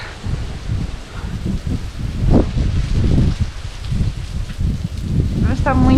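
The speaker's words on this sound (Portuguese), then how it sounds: "Está muito vento." Strong, cold winter wind gusting outdoors on a snowy day in Greece, a steady broadband roar with rustling surges, while people talk close by.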